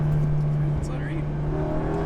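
A 2019 Volkswagen Golf R with a stage one tune drones loudly from inside, its engine holding a steady, deep hum throughout under the cabin noise.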